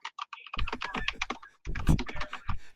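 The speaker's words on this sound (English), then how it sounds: "Now I'm just going to keep typing." Rapid, uneven keyboard clicks in short bursts, close to the microphone, with brief pauses and a few heavier key strikes.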